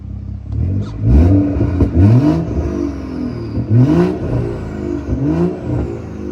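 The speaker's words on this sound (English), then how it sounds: "now the engine is definitely going to be a lot warmer, so we can definitely give it a few more revs" A BMW M240i with a warmed-up engine is revved repeatedly, loud close blips rising and falling in pitch, about five sharp revs over a steady idle.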